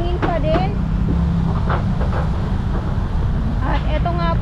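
Strong wind at Manila Bay's Dolomite Beach rumbles loudly and constantly against the microphone, with a person speaking over it and faint higher tones showing now and then.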